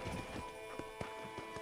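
A horse's hooves clip-clop on a ranch in Red Dead Redemption. There are a few soft, spaced hoofbeats at a slow walking pace over a quiet ambient hum.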